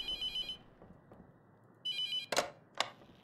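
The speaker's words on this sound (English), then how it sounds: "we'll answer the phone." A telephone rings in the horror game The Mortuary Assistant: two bursts of bright electronic ringing separated by a short pause, followed by two sharp clunks like a handset being picked up. No one speaks.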